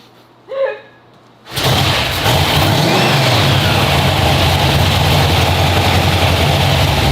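A big block Mustang engine roars to life after a brief voice, settling into a loud, continuous low rumble during a heat cycle, close and dominant throughout.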